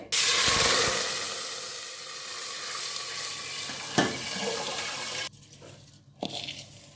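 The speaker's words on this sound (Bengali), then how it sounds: "পরিমাণ মতো জল দিয়ে দিয়েছি" Water gushes in a strong, rushing stream into a pot of soaked rice for pilaf, loud at first and tapering over several seconds before cutting off into quieter clinks.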